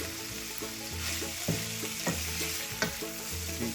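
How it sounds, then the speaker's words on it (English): Pepper steak sizzles steadily in a pan at home while being stirred, a continuous close frying hiss broken by soft scrapes and clinks of the utensil against the pan, with no talking. "Keep stirring it."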